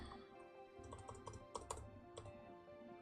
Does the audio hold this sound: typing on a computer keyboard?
yes